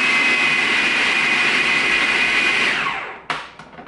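A food processor whirs at full speed, mixing eggs into cream puff dough with a loud, steady motor drone. It then spins down and stops, followed by a sharp knock and a few softer clunks.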